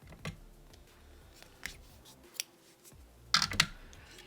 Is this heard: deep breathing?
no